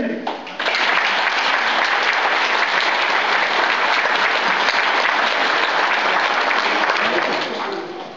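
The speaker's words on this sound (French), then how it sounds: "Je vous demande de les applaudir tous" A hall full of people at a mayor's New Year's greeting applauds steadily, a dense wash of clapping that starts suddenly, holds for about seven seconds, then begins to fade.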